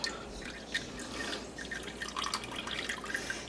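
Whey liquid dripping from freshly made farmer's cheese curds, a steady patter of small drops and trickles, close and fairly quiet, with no voices.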